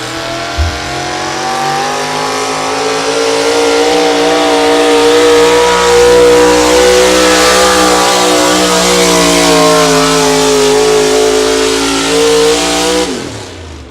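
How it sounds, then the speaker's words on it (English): Modified four-wheel-drive pulling truck, a Chevrolet at an outlaw truck pull in Wisner, Nebraska, revs hard with a loud, sustained engine roar that climbs in pitch and holds steady before cutting off abruptly near the end. "First puller here, modified four-wheel drives, Joe Claypool out of Macon, Missouri."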